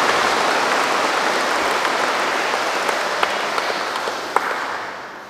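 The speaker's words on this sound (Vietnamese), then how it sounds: "Chúng ta chào mừng cha bằng một tràng pháo tay." Sustained applause from a congregation at a Catholic Mass for the feast of Saint Joseph in a Vietnamese village church, a dense, even crackle of many hands clapping loudly throughout and tapering slightly at the end.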